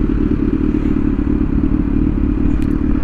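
A motorcycle engine idles steadily with a constant low rumble and slight unevenness, its carburetors out of sync, running alone and close with no talk.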